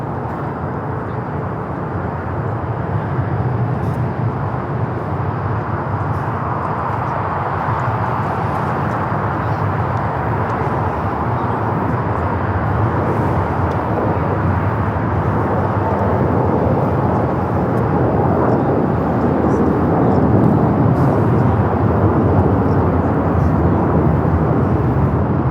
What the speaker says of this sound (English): That is Japan Airlines Flight 61 taking off to Tokyo Narita on the 787-9 Dreamliner